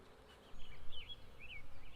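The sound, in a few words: foraging honeybees returning to the hive entrance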